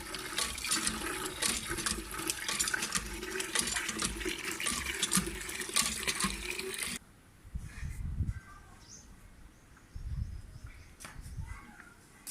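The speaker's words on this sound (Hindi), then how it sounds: "तो सबसे पहले हम पानी भर लेते हैं।" Water gushes steadily from a tap into a container for about seven seconds and then cuts off, leaving a few soft bumps and handling sounds in a quiet room.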